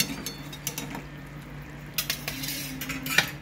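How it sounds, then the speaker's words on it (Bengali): Pomfret fish pieces slipped one by one into boiling curry in a pot, with light clinks of utensil against the pan and soft bubbling beneath, close and quiet with no voices. "এই দেখো ফিশগুলো আস্তে আস্তে ছেড়ে দিচ্ছি একটা একটা করে।"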